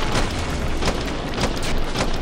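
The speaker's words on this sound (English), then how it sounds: "I like the grenades in this game" A grenade explosion in the shooter game Killing Floor 2, a loud, dense booming roar that fills the whole moment with continuous blast noise.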